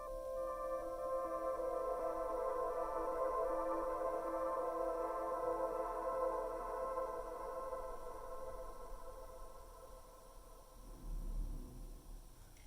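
Reversed sample with added effects used as ear candy in an electronic music arrangement: a sustained, shimmering tonal swell that slowly fades, then a soft low thump near the end.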